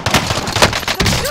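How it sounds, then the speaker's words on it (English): Gunfire in the video game Call of Duty: Modern Warfare, a quick burst of several rapid shots in the distance during a match, with a clattering, echoing quality and a faint hint of voice chat. "They're shooting at me."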